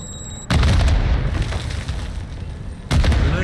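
A grenade goes off in the Call of Duty DMZ video game, a loud close boom with a long rumbling tail followed by a second heavy blast about two seconds later.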